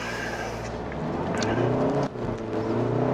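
A Hyundai Santa Fe's engine accelerates, its drone rising steadily in pitch with a brief dip as it shifts, heard from inside the vehicle.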